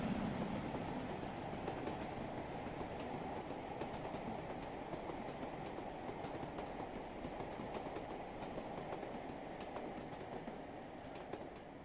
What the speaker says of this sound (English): Oh, there's a train approaching.